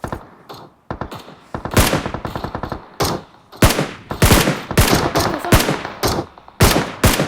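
Enemy gunfire in a video game, with loud, close automatic bursts of rapid shots and scattered single cracks that follow one another densely across the whole stretch.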